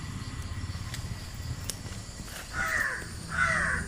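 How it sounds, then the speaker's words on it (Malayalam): A crow caws twice near the end, fairly close and loud, over a steady low background drone. "കാക്ക വിരുന്ന് വിളിക്കണ്ടല്ല?"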